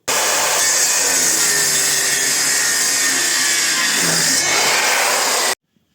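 Metabo KS 55 FS circular saw cutting oak, a loud, close, continuous high whine under load for about five seconds, dipping briefly as the blade works through the wood, then cutting off abruptly.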